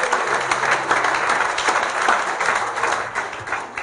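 A church congregation claps hands in praise, a continuous, fairly loud patter of many hands with a faint low hum beneath and no speech.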